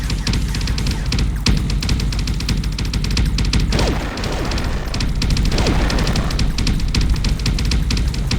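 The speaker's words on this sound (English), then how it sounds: "I'm literally taking every single hit they are shooting at me." Dense, continuous rattling gunfire from ship turrets mixed with impacts of incoming shots fills a space combat video game battle, loud and unbroken throughout with no talk.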